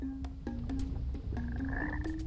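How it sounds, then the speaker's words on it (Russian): A cartoonish toad croak from the video game Snowflake's Chance, a few rhythmic pitched croaks in quick succession over a low ambient game background, with no talking. "Жабин."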